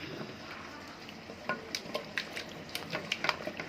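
Hot tempering poured into mashed mango and lentil curry sizzles softly, with light clinks and stirring taps of a spoon against the pot growing more frequent toward the end.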